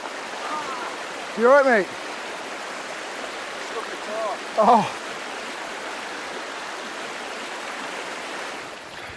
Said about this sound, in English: they have some 50 river crossings to negotiate